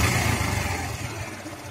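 A motorcycle engine runs steadily after its chain has been cleaned with kerosene, a close, continuous low rumble held at constant speed with no talking.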